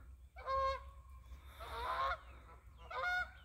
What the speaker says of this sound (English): There's even a goose singing at us today.